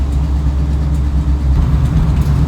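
A classic car's low, throaty engine rumbles steadily at idle, loud and close, with a faint uneven burble from the exhaust.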